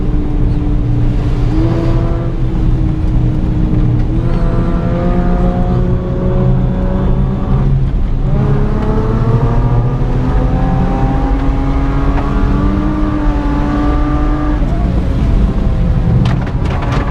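Honda car with an aftermarket exhaust accelerating hard on dry pavement, its loud droning engine note climbing through several gear pulls over continuous road and wind noise.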